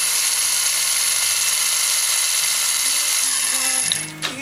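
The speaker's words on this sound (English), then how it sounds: "Now we'll drill a hole in the Nissan." A power drill bores a hole into a Nissan Skyline during a wheel swap, a steady high whine that holds for several seconds before the motor slows and stops near the end; no talking.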